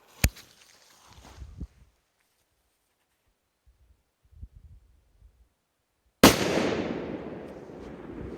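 A sharp bang from NWP firecrackers opens, then quiet rustling and faint knocks, followed by a second loud blast whose roar slowly fades.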